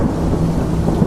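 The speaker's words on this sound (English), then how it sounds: "Outside, the storm grows stronger" A thunderstorm pours steady heavy rain, and a deep, loud, continuous rumble of thunder rolls through it, the sound close and enveloping with no voices.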